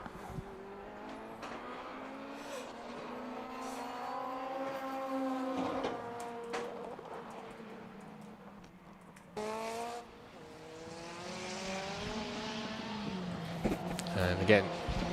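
Race cars lapping the Knockhill circuit during a Time Attack and Racing Hondas session, with a steady engine drone that rises and falls as cars pass at mid distance, and commentary talking throughout.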